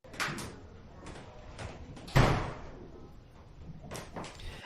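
Door banging on a separate occasion: several light knocks and rattles followed by one louder, close bang, then more faint knocking.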